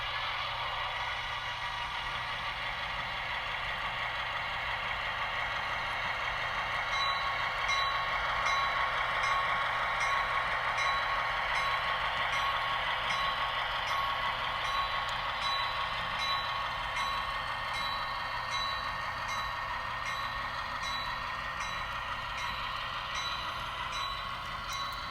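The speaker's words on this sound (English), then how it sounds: "Now we're going to push the 2 cars into ITT Grinnell." An N scale model train pushes two freight cars onto an industry spur, giving a steady low mechanical hum with faint, regular clicking throughout, with no talk.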